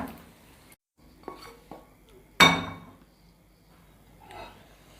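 Cooked macaroni hara masala with green coriander being spooned onto a plate, heard as a few scattered clinks and scrapes of a utensil against dishware, one louder clatter standing out in a quiet kitchen.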